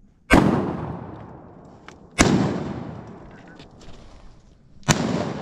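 Three loud shotgun blasts fired at wood ducks outdoors, each a sharp boom with a fading rumble, spaced about two seconds apart, with voices talking in between.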